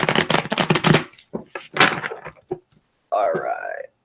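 A deck of tarot cards being shuffled during a reading: two bursts of crisp, rapid riffling and slapping of cards close up, followed by a short stretch of a voice speaking.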